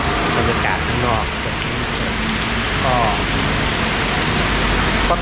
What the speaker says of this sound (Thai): มันไปไม่ได้ครับเพราะว่าเปียกแบบฝนตกหนักมาก